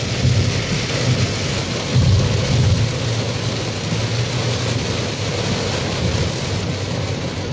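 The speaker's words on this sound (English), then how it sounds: "it is raining, y'all" Heavy rain pounds a moving vehicle on the road, a loud, dense, continuous roar with deep rumbling underneath and no pauses.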